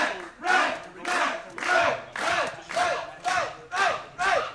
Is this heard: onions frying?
no